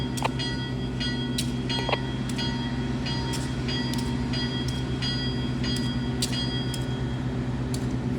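A Norfolk Southern freight train being assembled in a rail yard: a steady low locomotive rumble with layered engine drone, punctuated by repeated sharp metallic clanks and squeals from couplers and cars, continuous and fairly close, no talking.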